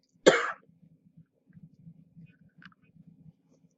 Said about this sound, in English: coughing attack coming on.